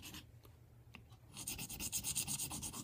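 A kitchen knife is drawn across an oiled sharpening stone, a few scattered strokes at first, then a quick run of rhythmic rasping passes, close and fairly quiet with no voices.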